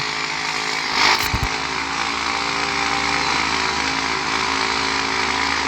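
A dirt bike engine drones steadily on a small Iowa cattle farm, a buzzing, close two-stroke-like whine that holds throughout, with a brief louder thump near the start.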